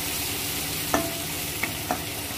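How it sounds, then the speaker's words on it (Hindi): Crushed garlic and green chillies fry in a pan with a steady hiss, broken by a few soft clicks as a spoon stirs them. "थोड़ा सा इसको बस कलर चेंज होने पर हल्का सा पकाना है"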